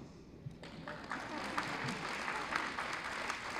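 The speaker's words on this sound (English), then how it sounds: "perhaps generous with your applause" Audience applause at an award ceremony in the Philippines rises after a quiet start and settles into a steady, moderately loud patter of many hands, with no speech over it.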